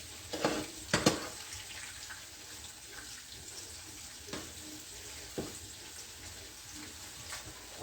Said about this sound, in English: It's frying very well.